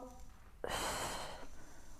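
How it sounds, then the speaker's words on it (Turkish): A sharp, loud inhalation during an abdominal workout, rushing in as a broad breathy burst that lasts under a second before fading back to quiet room tone. "Nefes al."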